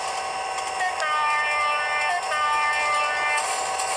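A train in the Trainz Driver game brakes to a stop, with a steady metallic screech and tonal whine running the full length, loud and close, without any talk.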